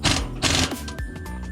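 Steering stabilizer bolts being tightened on a 6.0 CUCV truck make close, rapid bursts of metallic ratcheting clicks that stop and restart within a second or two.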